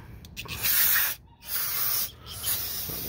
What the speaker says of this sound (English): I hit it up with a little bit like brake cleaner.